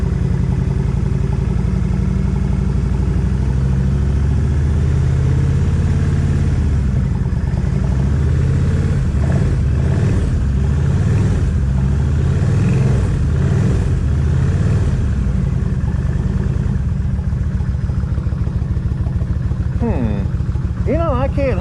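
A Kawasaki 1600 motorcycle engine running close by, its low steady rumble rising when the throttle is opened a little, with a person talking over it in the middle section.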